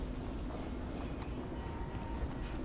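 A moving train in the video game F.E.A.R. 3 gives a steady, dense rumble and rattle that fills the whole moment at an even loudness, with no voices over it.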